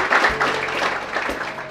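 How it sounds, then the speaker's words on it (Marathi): A crowd claps loudly and steadily for a girl named Mangal at a gathering of students, with dense, continuous applause and no talk. "टाळ्या वाजवा जोरात मंगलसाठी"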